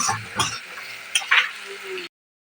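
Onion sizzles and crackles gently in a hot pan, with a couple of spoon scrapes and stirring clinks over the steady frying hiss.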